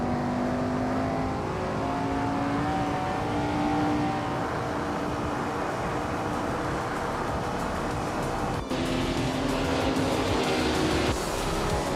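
Race car engines, including a Maserati 450S, howl continuously in a video game race, with layered revving tones shifting pitch as gears change and a brief break near the end before the roar resumes.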